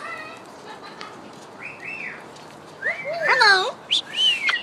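A parrot gives several whistled, squawky calls, a few soft ones early on and then a louder, busier burst near the end.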